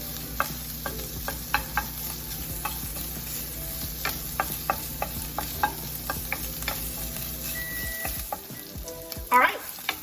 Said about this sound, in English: I'm just gonna go ahead and cook this entire sausage